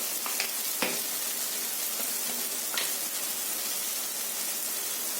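Turmeric and other spices fry with semi-cooked tomatoes in a pan for a Kerala-style egg curry, a soft steady sizzle with a few faint clicks of stirring.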